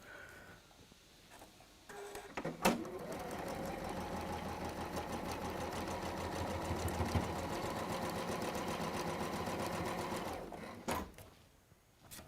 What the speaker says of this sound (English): we're now going to sew unit 3 to the other side of unit 2